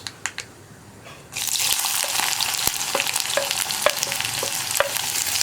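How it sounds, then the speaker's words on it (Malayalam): Onion dropped into hot oil in a pan for a potato stir-fry: a few light clicks, then a sudden loud sizzle that keeps going, broken by scraping stirs, close and without speech. "സവോള ചേർത്തിട്ട് ഒന്ന് വഴറ്റിയെടുക്കുക"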